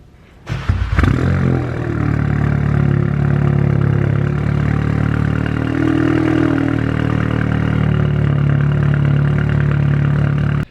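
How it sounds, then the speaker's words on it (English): Audi S3 8V.5 fitted with an AWE track exhaust and catless downpipe starts up with a sharp crank, then settles into a loud, steady, deep idle with a constant low drone and a brief pitch shift midway. "So far the exhaust sounds sick."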